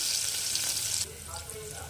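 Half a chopped onion frying in a pan for a carrot poha dish, heard as a bright, close sizzle that drops to a softer hiss about halfway through.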